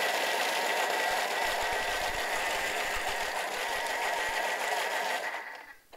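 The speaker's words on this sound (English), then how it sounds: "I'm just going to pop the food processor on" A food processor whirs steadily and loudly as it blends an aubergine tahini dip, a dense grinding buzz that runs for several seconds before cutting off abruptly, with no talking over it.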